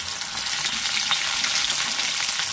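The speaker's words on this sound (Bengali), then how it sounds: "ঢেঁড়সটাকে ভেজে নিচ্ছি।" Okra frying in a hot kadai, an even, dense sizzle with fine crackling, close and steady for the whole short stretch.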